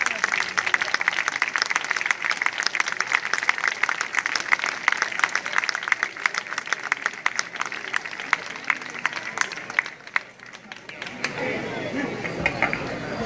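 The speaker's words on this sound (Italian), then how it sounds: "Sentiamo dal vostro applauso il grado di gradimento di queste bravissime Majorette." An audience applauds majorettes at a performance in San Pier Niceto: dense, sustained clapping fills the space for about ten seconds, then thins and fades as a few scattered claps and crowd noise linger.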